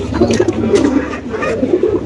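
Pigeons kept for sale coo steadily and close by, a continuous low, rolling murmur of overlapping calls with no pauses.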